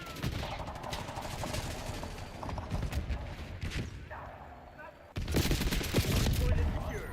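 Rapid bursts of enemy marksman gunfire in Black Ops 6 on Nuketown during a Hardpoint match, dense close shots and mechanical clatter, swelling louder toward the end amid game effects.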